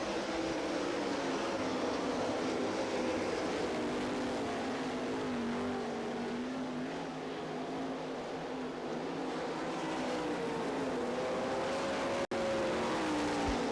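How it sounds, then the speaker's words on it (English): 360 sprint cars race at the 1995 Knoxville Nationals, a continuous, rising and falling engine drone of several cars lapping at some distance, with no commentary over it. "Terry Riley trying to move that 69R Maxim up on his backside."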